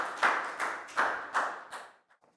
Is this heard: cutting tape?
no